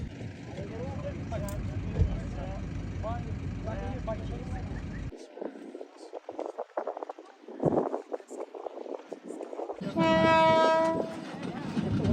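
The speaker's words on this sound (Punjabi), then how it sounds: "ਟ੍ਰੇਨ ਆਉਂਦੀ ਹੁੰਦੀ ਹੈ ਇੱਥੇ ਰੁਕਦੀ ਹੈ" A train in Jordan rumbles and clatters close by while people talk, then a loud, sustained horn blast sounds near the end.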